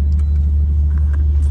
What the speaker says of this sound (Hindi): बाइके जा रही है।